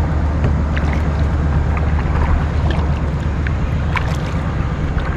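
Kayak on open water with a steady wash of wind and lapping water, paddle strokes splashing faintly now and then over constant rushing noise, no voices.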